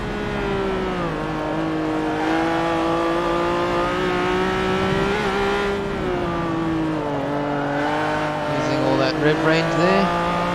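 Honda NSX-R engine in Forza 7 on the Nordschleife, revving hard as a loud, continuous, high-pitched harmonic drone whose pitch climbs and dips with gear changes and throttle.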